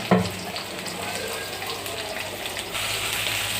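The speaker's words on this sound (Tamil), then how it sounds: "ஸோ ஆனியன் பார்த்திங்கன்னா நல்லா வதங்கட்டும்" Onion with cinnamon sticks and cardamom sizzling in hot oil, a steady close frying hiss running throughout with a brief bump near the start.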